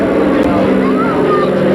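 Douglas C-47 (DC-3) with radial engines passing overhead at a naval ship recommissioning ceremony, a steady, fairly loud droning rumble that swells slightly as it passes.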